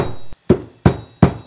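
Three heavy knife chops come down one after another on a large flathead fish, cutting off its tail through thick, tough bone. Each is a sharp, loud thud on the board, and there is no talking.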